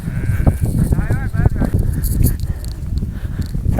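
Sheep bleat amid a noisy outdoor flock, several wavering calls overlapping with footsteps and background rumble.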